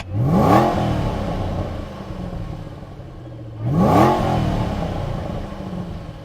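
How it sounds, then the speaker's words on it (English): A supercharged car engine revs twice, each rise climbing sharply before settling back into a steady idle, loud and close with no voices. "Oh, hear that supercharger."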